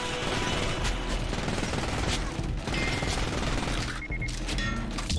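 Gunfire in the VR game Fracked, heard as dense continuous automatic shooting that fills the clip loudly, with only a brief lull near the end.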